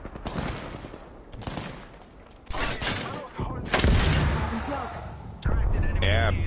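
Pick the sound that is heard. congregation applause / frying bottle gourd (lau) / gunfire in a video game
gunfire in a video game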